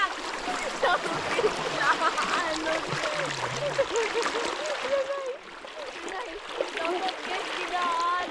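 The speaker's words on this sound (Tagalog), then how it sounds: "Oh, lakas kasi ng agos." Strong river current rushes and splashes around someone being carried downstream during a family nature outing, a constant watery roar under excited talking.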